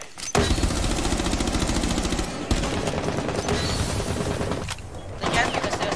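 Rapid gunfire in the video game Rainbow Six Siege, loud sustained automatic bursts with brief pauses between volleys, close and dense throughout.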